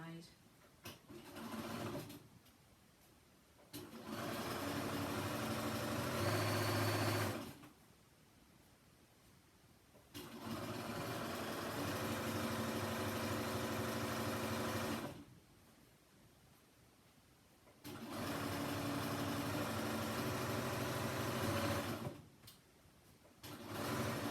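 A sewing machine stitches a seam on a chair cushion cover in three long steady bursts of motor whir, separated by quiet pauses and handling sounds.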